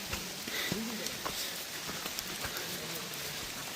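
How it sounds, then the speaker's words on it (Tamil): Heavy rain falls steadily in a deep mountain forest, with dense, even patter and a few closer drops over the constant wash. "ஃபுல்லாக மழையே தான் பெஞ்சிட்ருக்கு."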